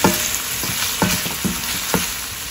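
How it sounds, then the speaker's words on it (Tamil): Cumin, pepper, garlic, dried chillies and curry leaves sizzle in frying onions for chayote chutney, a dense continuous crackle with a few soft stirring scrapes, close up and steady. "வெங்காயம் வதங்கிட்டு இருக்கும்போதே ஜீரகம் மிளகு பூண்டு வரமிளகாய் கருவேப்பிலை இதெல்லாம் சேர்த்துக்கலாம் இதையெல்லாம் சேர்த்து நல்லா கிளறி விடுங்க"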